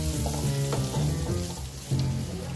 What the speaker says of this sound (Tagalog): Magtunaw na tayo ng ating ano, butter. Yan, tunawin natin mga chops.